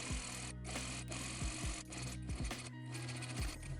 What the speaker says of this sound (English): sew the button tape on both sides onto the front pieces